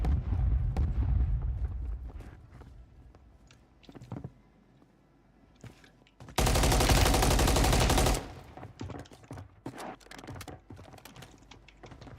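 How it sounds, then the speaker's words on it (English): Bursts of rapid automatic gunfire crackle through a game scene, with a sustained loud volley in the middle and scattered shots and clicks around it. "Gunfire upstairs."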